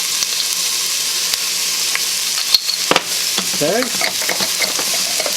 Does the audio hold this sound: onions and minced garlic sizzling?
yes